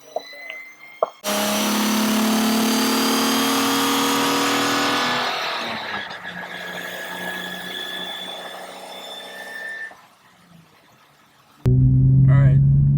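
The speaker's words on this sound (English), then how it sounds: "Car revs up so much faster." A V6 Honda Accord fitted with straight-cut gears revs hard while driving, loud engine roar with a whining gear tone that rises, eases off into a lower drone, dips quiet, then surges loudly again at the end.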